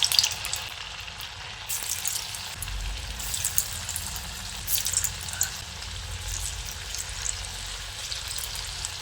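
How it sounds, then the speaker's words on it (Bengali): Spiced potato peel pieces fry in a wok over a medium gas flame, giving a steady, close sizzle and bubbling of oil with small irregular pops and no talking. "এগুলোকেও একইভাবে গ্যাসের ফ্লেমটাকে মিডিয়ামে রেখে ভেজে নিতে হবে।"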